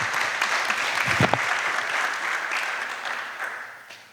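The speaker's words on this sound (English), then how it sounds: "Applaudissez encore Carlos." Audience applause at a youth peace conference session, a sustained crowd clapping with a few louder nearby claps, slowly fading toward the end.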